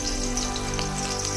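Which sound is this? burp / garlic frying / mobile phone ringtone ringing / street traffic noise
garlic frying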